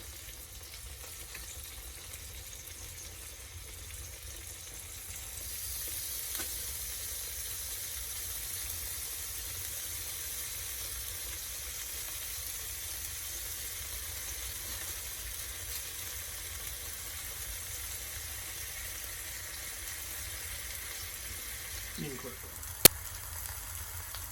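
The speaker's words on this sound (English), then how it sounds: "we got the rattlesnake sausage. We're just going to go ahead and put that on the heat" Rattlesnake sausage frying in a pan for a cabin breakfast, a steady low sizzle and crackle that rises slightly once the meat goes on, continuing quietly without talk.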